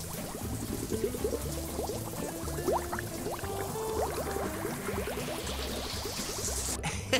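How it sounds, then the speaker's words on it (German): Cartoonish water gurgles and pours as shampoo is rinsed from a puppy's fur in a Paw Patrol video game, a steady bubbling stream whose pitch rises gradually, with no voices. "Als nächstes wasche das Shampoo aus Rubbles Fell"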